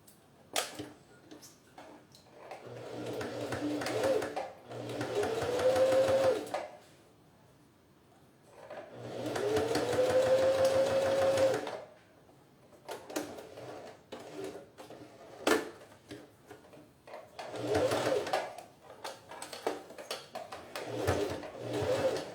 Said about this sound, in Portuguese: Então, eu bato a costura em cima do ponto e eu arremato.